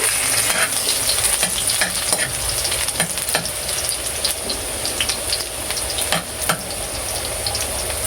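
Garlic frying in hot oil for eggplant adobo, a loud continuous sizzle and crackle close by, with scattered sharp pops and spatula clinks and no talking.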